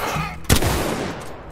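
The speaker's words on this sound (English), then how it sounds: "And this massive shotgun" A single heavy shotgun blast in the Apex Legends video game, one sharp loud report near the middle of a busy background of game ambience, with no talk over it.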